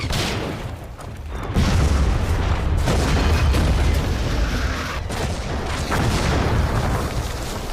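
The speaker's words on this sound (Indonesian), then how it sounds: "Jerman kembali membombardir pertahanan Westerplatte dengan tembakan bom dari kapal perang Schleswig-Holstein" Heavy bombardment from the German warship Schleswig-Holstein strikes the Westerplatte defenses, with loud, dense booming explosions and a continuous rumbling roar that swells and lingers without a break.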